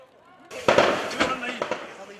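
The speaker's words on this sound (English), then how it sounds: "The crack of gunfire," Sharp cracks of gunfire at dawn during a militant attack on Garissa University in Kenya, several close bursts popping in quick succession over about two seconds with talk underneath.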